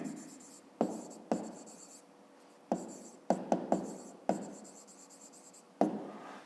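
Pen strokes scratching across paper while solving a fifth-grade math exercise, a steady close scribbling broken by several sharp taps as the pen lifts and lands, with no talk over it.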